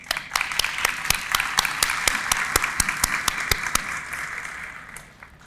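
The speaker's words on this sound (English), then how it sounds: "A little round of applause for the families here today." A crowd at an awards ceremony applauds steadily with sharp individual claps standing out, the clapping thinning and fading away near the end.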